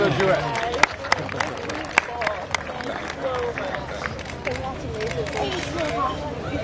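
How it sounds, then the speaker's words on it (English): Applause for two performers at a wedding reception: a dense, steady patter of many hands clapping, with crowd murmur and a few sharper claps standing out. "Please can we have another round of applause for Ariana and Alana"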